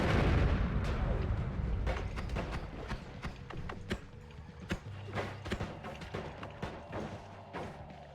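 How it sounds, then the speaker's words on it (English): Enemies fire at the player in the game Noita, a rapid scatter of sharp gunshot-like cracks and thuds over a low rumble, loud at first and then sparser and quieter. "there's random enemies trying to shoot at me right now"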